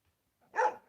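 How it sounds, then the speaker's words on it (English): A single dog bark, short and fairly close, following a moment of near silence. "Hey, Cabron, what are you barking at?"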